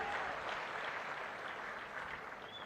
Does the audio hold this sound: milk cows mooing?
no